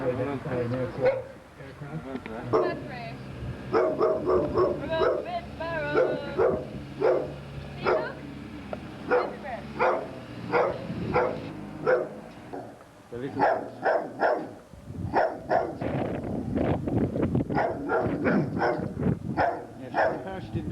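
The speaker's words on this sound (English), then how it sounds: "I think that dog is from Johnstown." A dog barks repeatedly, in sharp yips and barks close by, among people talking at an outdoor Gaelic football county final, with voices running under and between the barks.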